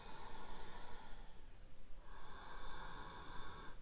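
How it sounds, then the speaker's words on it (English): Slow, deep breaths in and out during neck-pain stretches, audible as long airy rushes with a soft tonal hum, close and steady with no talk. "Deep breaths in and out."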